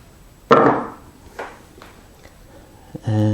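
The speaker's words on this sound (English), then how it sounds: "I want to chop a recess in there for this small square section." A small chisel chops a recess in wood by hand, giving a few sharp knocks: one strong strike, then lighter taps, before a voice begins speaking at the end.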